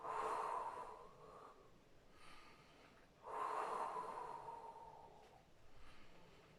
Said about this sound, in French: Inspirez, soufflez.